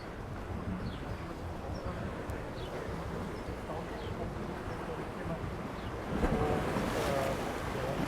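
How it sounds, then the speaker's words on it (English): Turbulent seawater sloshing and splashing continuously against rocks at Port d'Andratx, Mallorca, a broad rushing wash with gusts of wind, swelling louder near the end. "And the water splashing around here on the rocks."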